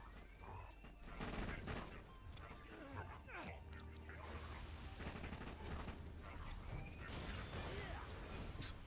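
A Gub Sweeper gun in Borderlands 2 fires rapidly and continuously through the whole stretch, a dense, steady fusillade of shots mixed with mechanical clatter and game effects, with faint talk at times.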